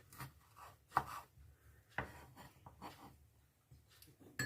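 A knife cuts rings from a food item on a board while breakfast is prepared, making soft, uneven chopping taps and short scraping strokes, close and faint. No talking is heard.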